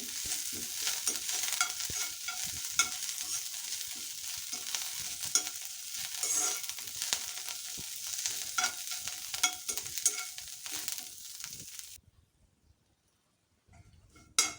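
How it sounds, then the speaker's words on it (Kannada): Curry leaves fry in a pan over a medium flame, giving a steady close sizzle with frequent scraping stirs that runs continuously, then cuts to near silence at the end with a brief clatter. "ಇದನ್ನು ಮೀಡಿಯಮ್ ಫ್ಲೇಮಲ್ಲೇ ಹುರ್ಕೊಳ್ಬೇಕು ಚೆನ್ನಾಗಿ."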